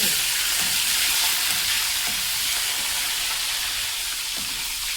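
Sliced ivy gourd fries in hot oil in a pan for dal rasam and ivy gourd fry, giving a steady, dense sizzle and hiss that runs the whole time with faint stirring scrapes underneath and no talk.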